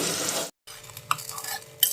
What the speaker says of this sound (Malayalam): കുറച്ച് കാഷ്യൂനിട്ട് അതിലേക്ക് വറുത്തിടുക